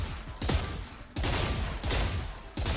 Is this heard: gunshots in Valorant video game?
yes